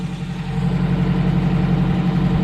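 A Geo Tracker engine with a head gasket issue and a bad oil leak idles steadily up close, a continuous low rumble with an even, slightly pulsing texture and no voices.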